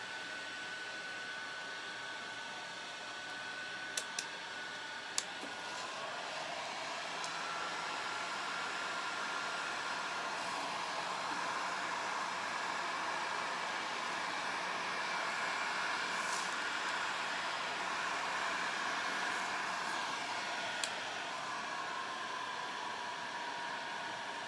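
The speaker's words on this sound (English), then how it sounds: "I like this heat gun. It's a cool heat gun." A heat gun blows steadily over resin artwork, a continuous airy hiss and fan whir that runs unbroken for the whole stretch, with a few faint clicks and taps in the background.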